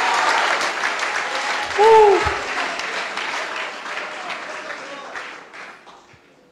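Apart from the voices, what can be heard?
audience clapping hands at church sermon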